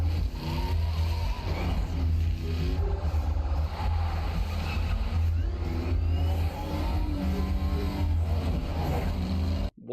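Car engine revving and roaring through a movie chase scene, a loud steady drone running the full length with swelling tones, over a dense mix of soundtrack and effects.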